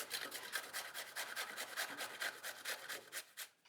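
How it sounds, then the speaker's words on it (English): Zucchini is rubbed against a grater in quick, even back-and-forth rasping strokes, close and soft, steady for a few seconds before slowing at the end. "And just grate this."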